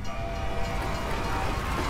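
A train rushes past in Call of Duty Cold War Zombies, a loud, continuous rumbling roar with metallic rattling that fills the whole moment.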